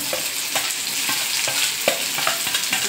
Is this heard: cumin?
yes